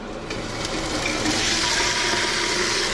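Garlic and redfish chunks hit hot oil in a pan, giving a steady, loud broadband sizzle that swells slightly as the fish goes in and holds throughout with no voices.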